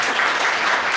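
A crowd at a strawberry cake championship in Prešov gives loud, dense applause to the contest winner, sustained clapping throughout.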